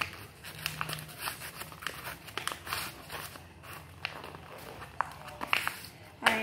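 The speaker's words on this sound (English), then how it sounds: "First, we have to fold a paper" Sheets of paper being folded and crinkled into a paper gun, soft irregular rustles and crackles close by.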